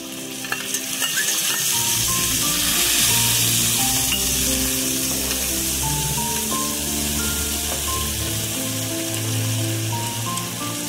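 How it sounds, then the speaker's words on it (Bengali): Onion, ginger, garlic and chili paste sizzling loudly in a pan of hot oil for a coconut hilsa curry, a dense, constant hiss with faint music underneath. "এবার এর মধ্যে আমি পেঁয়াজ, আদা, রসুন আর লঙ্কার যে পেস্টটা সেটা দিয়ে দিচ্ছি।"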